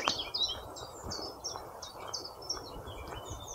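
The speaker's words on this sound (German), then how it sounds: "Und höre die Vögel mal." Birds chirp and sing repeatedly on a sunny, warm hike, with bright tweets scattered over soft background noise and faint water sounds.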